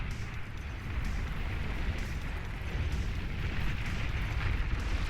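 Artillery fire and explosions in the real-time strategy game Beyond All Reason merge into a continuous, dense rumbling barrage of booms that holds steady for several seconds with no talk.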